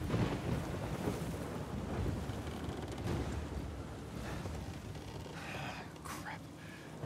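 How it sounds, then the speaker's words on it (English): Steady broadband rain hiss in the video game Uncharted 4, continuous and fairly loud throughout, with a low rumble like wind or distant thunder underneath and a few higher whistling tones near the end. "And it's raining."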